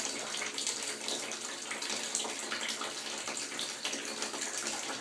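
Water splashes and sloshes steadily around a baby sitting up in a bath, a close, continuous wash of noise with a parent's voice faint beneath it.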